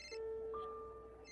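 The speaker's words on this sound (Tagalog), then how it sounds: "Nagre-ring ang cellphone mo sa bulsa mo." A cellphone rings inside a pocket, a bright electronic ringtone with steady sustained tones stepping up in pitch, clear and fairly close, with no talk.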